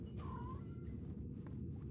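A single faint, short meow from a pet cat rises briefly above a low, quiet room rumble, with nothing else around it.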